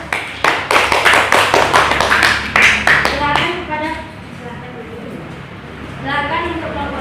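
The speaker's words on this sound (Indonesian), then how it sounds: "berikan aplaus kepada kelompok 1" Classroom applause for a student group: many hands clapping together in a lively burst that fades into scattered claps, with voices talking over and after it.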